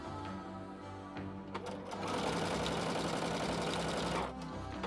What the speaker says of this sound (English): I'm gonna take a few stitches and I'll back stitch it a little bit